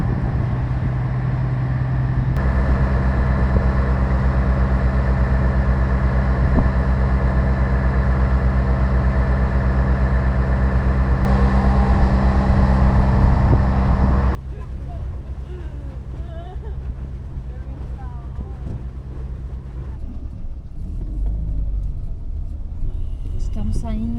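Car engine rumbling low and steady as the vehicle drives off a ferry near São Francisco do Sul, loud for about fourteen seconds and then dropping to a quieter hum with wind noise and voices talking.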